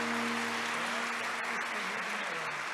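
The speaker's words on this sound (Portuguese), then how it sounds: "Então aplauda a Deus." A church prayer group congregation applauds together, a dense, steady wash of clapping from many hands that holds evenly throughout without breaks.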